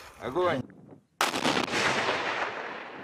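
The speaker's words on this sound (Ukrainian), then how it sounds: "А так підсилений двома 120-ками, вибухає під час ліквідації." A voice is cut off by a sudden loud blast as a tank shell reinforced with two 120 mm rounds explodes during demining in Donbas, followed by a long rumbling, hissing roar that slowly fades.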